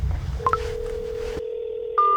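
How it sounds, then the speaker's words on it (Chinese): A telephone dial tone hums steadily while a couple of quick keypad beeps sound, then it cuts out and another short beep tone follows, close and clear, with no talking. "现在给村长打电话"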